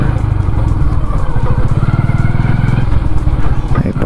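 A Kawasaki ZX10R sport bike's engine runs loud and close as it rides through slippery mud, with a steady, throbbing drone and faint clatter throughout.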